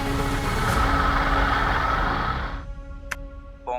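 A vehicle's engine rumbles loudly and steadily, then cuts off as it comes to a halt, leaving a quieter background with a brief sharp tone and a short click near the end.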